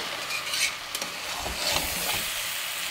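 Rice frying and being stirred in a pan for vegetable masala pulao, a steady close sizzle with scraping stir strokes throughout, no talking.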